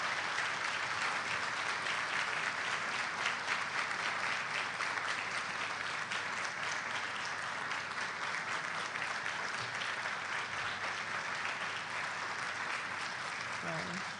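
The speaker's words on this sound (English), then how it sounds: "Now thank them with a big round of applause" Sustained applause from a large audience at a scholars program graduation ceremony, steady dense clapping for about fourteen seconds with a faint voice underneath.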